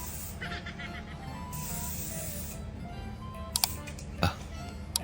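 A setting spray bottle hisses in short bursts as part of a prank, fairly close over a steady background hum, followed by a few sharp clicks and taps near the end.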